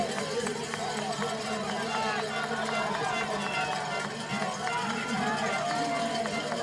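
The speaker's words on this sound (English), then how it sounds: "this crowd really urging these riders up this very tough slope" A roadside crowd urges cyclocross riders up a steep, tough slope with sustained, dense cheering and shouting, continuous and fairly loud throughout.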